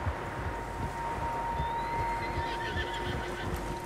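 Horses whinny in Red Dead Redemption 2, with a high neigh rising through the middle over a dense, steady bed of low rumbling ambience and hoof-like clatter.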